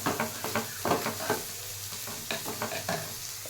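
Onions frying in a pan at home while being stirred, with a steady sizzle broken by repeated scraping and clatter of the spoon. The sound is close and moderately loud, and no one speaks over it.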